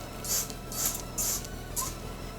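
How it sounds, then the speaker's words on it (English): Dandruff treatment sprayed onto cotton wool in four short hissing bursts, each a fraction of a second, spaced evenly and heard close up with no talking. "I'm going to spray on it so you see."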